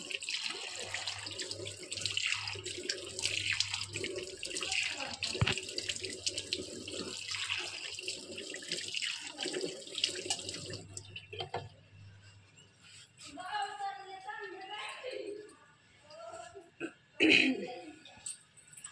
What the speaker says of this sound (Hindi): मैं आ गई हूँ छत पर फेस वॉश करने।